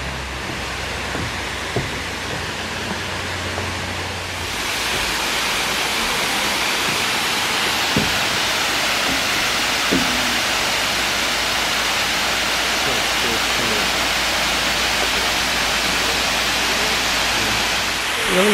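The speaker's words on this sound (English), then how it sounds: "Really nice waterfall." Steady, dense roar of rushing water, like a waterfall close by, loud and continuous, with a few faint knocks early on.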